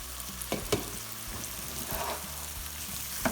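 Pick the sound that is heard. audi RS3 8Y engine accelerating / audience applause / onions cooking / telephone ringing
onions cooking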